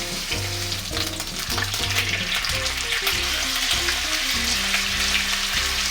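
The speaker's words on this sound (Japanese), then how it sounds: "皮面を下にして フライパンに落としたら火を落として押さえつけながら皮をパリッと" Duck pressed skin-side down in a frying pan over lowered heat, cooked Peking-duck style, gives off a loud, continuous sizzle over steady background music.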